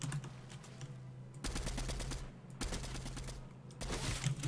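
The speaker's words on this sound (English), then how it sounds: "I'm getting sniped from another team." Fortnite gunfire rattles in loud, dense bursts that sound like rapid fire rather than single sniper shots, with brief pauses between volleys and no talking.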